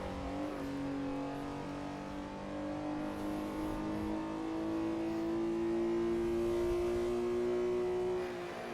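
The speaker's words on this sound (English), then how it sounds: "Oh yeah, this is a flat 6, definitely." A flat-six race car engine in Assetto Corsa, a WSC Legends car on the Riverside circuit, drones with a steady rising whine as it accelerates through a gear, close and sustained.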